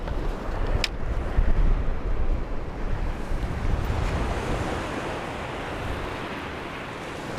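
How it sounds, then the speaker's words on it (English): Ocean waves wash against the shore under a strong pulling tide, producing a loud and steady roar of surf mixed with wind buffeting the microphone, with no voices. "I feel the tide is pulling really hard now."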